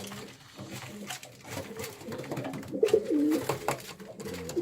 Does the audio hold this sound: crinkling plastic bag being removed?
no